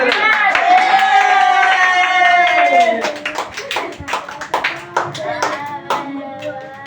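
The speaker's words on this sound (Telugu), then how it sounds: "చప్పట్లు కొట్టండి" People at a birthday celebration in Nalgonda clap their hands, a loud sustained burst that breaks into scattered, uneven claps toward the end, with no talk over it.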